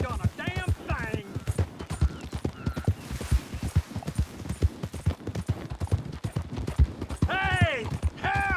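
Horse hooves clip-clop steadily through a Red Dead Redemption 2 gameplay scene, mixed with shouting voices, a whinny and other game sounds at moderate level.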